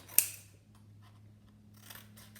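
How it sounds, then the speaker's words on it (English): Scissors snip paper, cutting out hand-drawn shapes such as rectangles and circles for a glue-free paper sculpture: one sharp close cut, then quieter scattered snips and rustles. "So I'm now going to cut these out"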